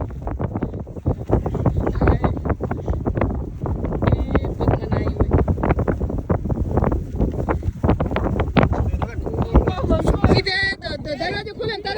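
Strong desert wind buffets the microphone in rapid, loud rumbling gusts, with people talking underneath.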